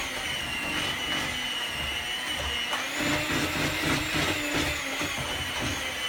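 An electric hand mixer beats batter with a steady, continuous motor whir, its blades churning and knocking against the bowl in close, loud, uneven pulses throughout, with no talk over it.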